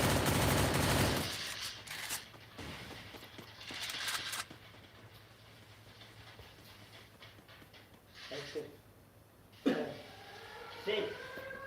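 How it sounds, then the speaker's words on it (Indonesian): Bursts of gunfire from the Free Fire Battlegrounds video game, a loud rapid volley at the start followed by scattered shorter shots and a few sharp single cracks later on. "Kenapa ada tembak Banyak tadi?"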